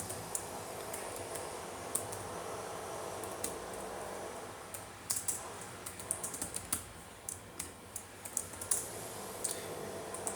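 Keys clicking on a computer keyboard while C code is typed in, a steady stream of light taps with a few sharper clicks that grow more distinct toward the end, close and fairly quiet, with no talking.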